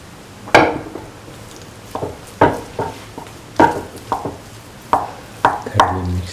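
A utensil clanks against a pan while rice is mixed into a ginger potato mixture, with about ten sharp, irregular scraping knocks, close and distinct, and no talk.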